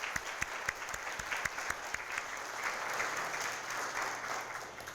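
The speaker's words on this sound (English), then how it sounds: "Let's give them a round of applause." Audience at an adult degree program honors and graduation ceremony breaking into applause, sharp separate claps at first swelling into a sustained, moderately distant wash of clapping from a large crowd.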